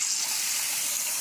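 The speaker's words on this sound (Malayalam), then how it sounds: "ഇതിനകത്ത് നമുക്ക് അല്പം വെള്ളം കൂടെ ചേർക്കാം." Water pours in a soft, steady hiss over green gram soaking for payasam, a brief continuous stream with no talk.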